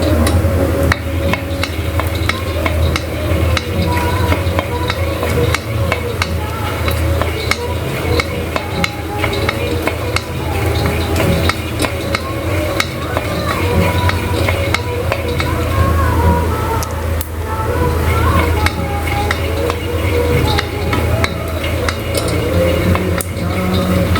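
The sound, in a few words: groundnuts (peanuts) frying in ghee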